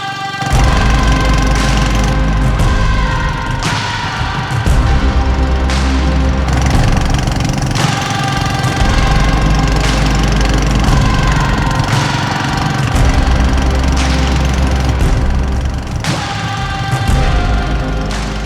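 A boat's engine running on a boat trip along a canal in Bandarban, Bangladesh, loud and close, a steady mid-pitched drone with a knocking pulse that continues without a break.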